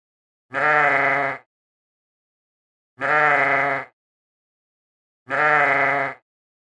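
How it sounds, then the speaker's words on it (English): A sheep bleats three times, each call about a second long and separated by pauses of over a second, loud and close. "This is a sheep."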